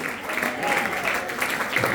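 Church congregation applauding during a sermon, a continuous moderate wash of clapping with faint voices mixed in.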